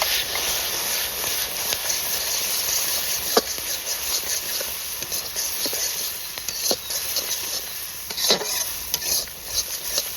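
Curd and masala spices fry in hot oil for Delhi-style dum aloo matar, a steady close sizzle with occasional sharp spoon scrapes and clicks against the pan.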